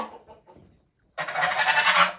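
A curly-feathered goose on a farm gives a loud, sustained honking call after a few faint, scattered sounds and a short silence.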